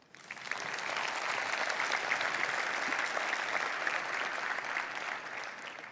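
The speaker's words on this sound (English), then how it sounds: "it would be nice to give him a round of applause" Conference audience at Vue.js Amsterdam 2020 gives a round of applause, a dense, steady burst of clapping that swells quickly and holds for several seconds before easing slightly.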